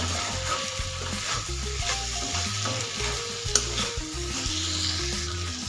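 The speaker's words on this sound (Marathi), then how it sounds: "शेंगदाण्याचा कूट घातल्याच्या नंतर आपण मिक्स करून घेऊया।" Ridge gourd stir-fry being mixed with crushed peanuts in a pan, a steady sizzle with repeated scraping and stirring strokes and one sharp clink, alone without talk.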